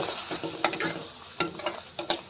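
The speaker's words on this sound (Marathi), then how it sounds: "असं परतून घ्या." Ground wet masala being stirred and sautéed in a hot pan for Pandharpur-style amti, with soft scraping strokes of a spoon and a light sizzle under them, heard close and fairly quiet.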